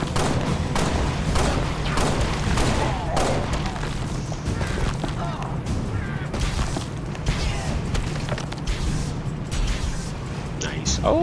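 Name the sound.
massive explosion in video game Halo: Spartan Assault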